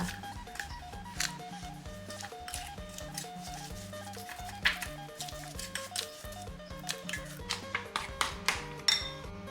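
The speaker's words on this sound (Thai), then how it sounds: "จากนั้นก็คนให้เขาเข้ากันค่ะ" A spoon stirs a mango salad dressing made with cooked fermented fish sauce in a bowl, giving soft scrapes and light clinks under steady background music, with a cluster of sharper taps near the end.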